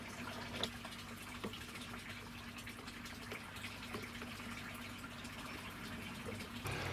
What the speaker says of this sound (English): we can give the system a dry run, or sorry, a wet run with some water